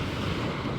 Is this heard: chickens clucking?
no